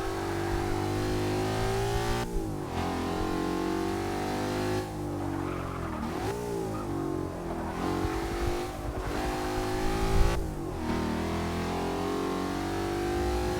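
A 5.0 muscle car engine roars and revs continuously on a track lap, with rising and falling pitch as the throttle opens and the car shifts gears, loud and close.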